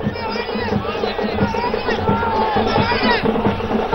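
Dense crowd celebrating outside Jayalalithaa's Poes Garden residence after her acquittal, a steady roar of cheering and overlapping voices with excited calls rising throughout, loud and continuous for the whole stretch.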